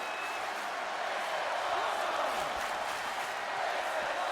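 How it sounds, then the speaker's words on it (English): A wrestling video game arena crowd cheers in a continuous, moderately loud roar, with a faint whistle-like tone and a few rising swoops mixed into the din. "But the crowd love it, I suppose."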